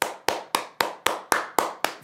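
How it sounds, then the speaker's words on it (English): Eight sharp, evenly spaced hand claps ring out in a quick steady rhythm, each loud and crisp with a short decay, with no other sound around them. "3 claps."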